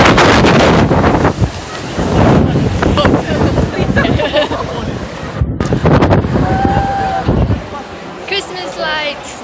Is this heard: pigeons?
no